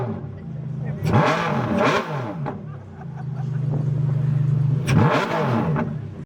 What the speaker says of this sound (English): they brought out their Ferrari Enzo, and this thing is straight piped, and I'll play a clip of them revving it right now.